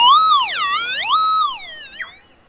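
Minelab SDC 2300 metal detector signalling a gold find in a dry creek bed: a loud warbling electronic tone sweeping up and down in pitch, then fading out, with no talking.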